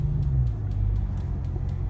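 A Dodge Ram TRX pickup's engine under full throttle, a loud, steady low rumble that holds for two seconds, close and unbroken with no talk over it.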